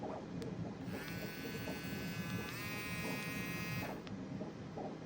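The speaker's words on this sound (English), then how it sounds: "Dremel." Dremel rotary tool running for about three seconds, a high buzzing whine with a slight pitch shift midway, over a constant background rumble.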